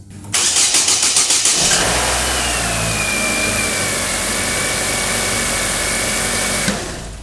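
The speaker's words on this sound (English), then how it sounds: "I'm gonna start this thing up and make sure it runs." A 1.6-litre Chevy Aveo engine, just fitted with a new timing belt and water pump, cranks in a quick rhythmic burst, catches, and settles into a steady loud idle with a faint whine, close up.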